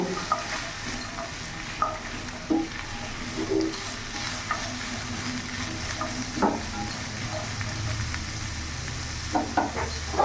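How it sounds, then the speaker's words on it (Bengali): Carrots and onions fry in a pan for chicken pasta under a continuous sizzle, with frequent irregular scrapes and knocks from a stirring utensil throughout. "এর সাথে এখন আমি এখানে গাজর আর পেঁয়াজ কলিটা পুরোটা দিয়ে দেবো। ভালো করে মিশিয়ে নেব।"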